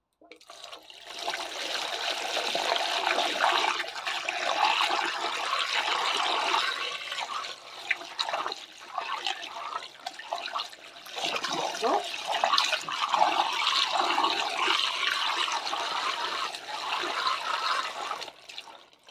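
Water pours steadily from a watering can, splashing onto soil around leeks in two long runs with a brief break between them.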